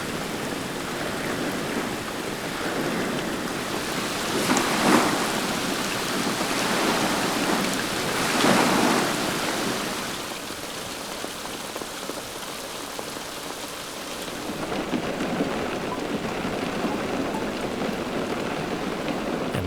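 Torrential rain pours steadily in a loud, dense hiss at a campsite in Albania, swelling in two brief surges early on before settling into a constant downpour, with no voices and no distinct thunderclap.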